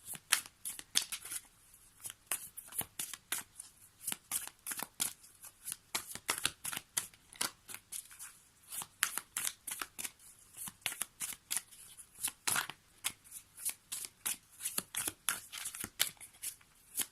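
Oracle cards are shuffled steadily and close up, a long run of quick papery riffles and flicks in an even rhythm, quiet and with no talking.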